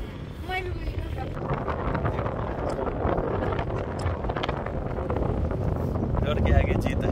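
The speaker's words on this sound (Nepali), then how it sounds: "मजाको हावा आउँदैछ" Wind blows across the hilltop skywalk at Bhedetar, a continuous rushing roar over the microphone that builds toward the end, with people talking underneath.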